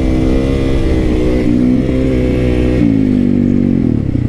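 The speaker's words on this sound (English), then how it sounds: "Let me bust a wheelie up the hill." A Japanese dirt bike engine revs hard close by as it wheelies up a hill, a loud, buzzing, steady roar with clatter and slight pitch shifts.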